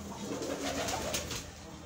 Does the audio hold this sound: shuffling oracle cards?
no